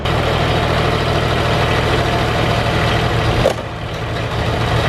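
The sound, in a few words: diesel engine running after glow plug warm-up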